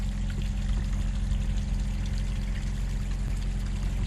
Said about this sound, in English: look at the water coming in